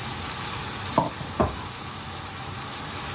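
Onion and green chilli pieces fry in a hot pan with a steady, loud sizzle. Two brief scrapes or stirs break through it.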